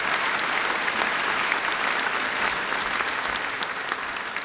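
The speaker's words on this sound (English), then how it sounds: "How about a round of applause for all of them?" Steady applause from an audience honoring faculty and staff at a new medical school in Joplin, dense clapping held at an even level for several seconds with no voices over it, easing slightly toward the end.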